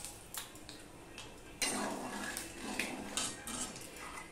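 A spoon adding salt to a mango and garlic pickle, with light clinks of metal against a dish and a scraping stir, then a louder scrape and a few more taps, close and alone.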